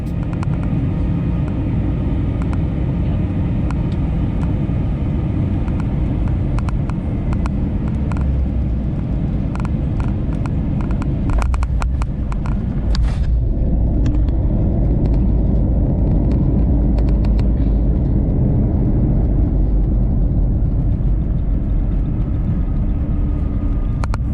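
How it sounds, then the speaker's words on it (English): Steady, loud cabin rumble of a Lufthansa Airbus A321neo landing at night, heard from inside economy class; the roar shifts and swells partway through, then settles into a heavier continuous rumble. "there's no landing view at night, but with landing sound"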